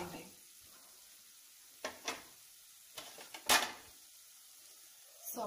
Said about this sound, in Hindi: इसको 1 मिनट तक ऐसे फ्राई कीजिए